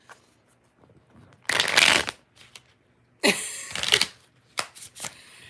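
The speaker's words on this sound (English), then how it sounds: "2 more shuffles" Tarot cards shuffled by hand in two loud riffling bursts, each lasting about half a second to a second, followed by a few short, sharp card snaps, with quiet pauses between.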